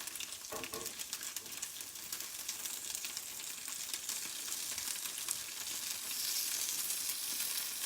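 Tofu pieces, some already flipped and browning, fry in a pan with bits of garlic, giving a steady, dense sizzle throughout with faint scraping of stirring, and no voices.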